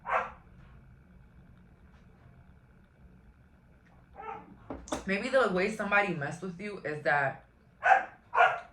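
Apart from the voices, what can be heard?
dog barking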